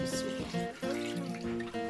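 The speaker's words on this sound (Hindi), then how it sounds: "अब हम इसमें ऐड करेंगे पानी हस्बे ज़रूरत" Water poured into a cooking pot of mutton and fried pumpkin gives a steady splashing, gurgling flow with shifting resonant tones as the level rises, close and fairly loud.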